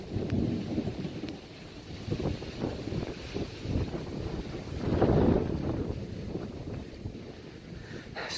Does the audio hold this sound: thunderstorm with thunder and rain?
yes